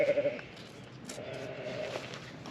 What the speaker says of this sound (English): It's quite a smart lamb actually, a Texel Dorset.